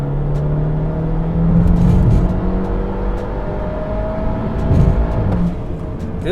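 A tuned BMW 528i with an N20 engine accelerates hard, heard from inside the cabin, its engine rising in pitch in a loud steady drone that swells and eases between shifts.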